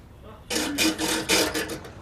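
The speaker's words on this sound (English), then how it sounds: "Keep sawing." Rhythmic rasping strokes of a saw cutting through wood, several quick back-and-forth pulls, close and loud after a short quiet start.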